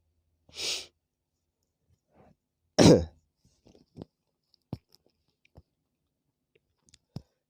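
A couple of close, harsh coughs break a quiet room, followed by scattered small clicks and breathy sounds, while a Canon IP2770 printer is being fitted with an ink system.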